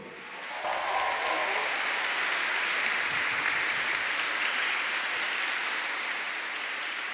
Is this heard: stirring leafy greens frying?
no